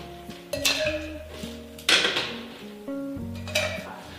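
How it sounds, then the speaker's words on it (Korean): Ice stirred in a glass for a plum-blossom tea martini: repeated clinks and rattling knocks of cubes against glass, a few bright strikes over low ringing tones, close and without talk. "이렇게 넣은 다음에 얼음을 넣고 잘 섞어주시면 되십니다"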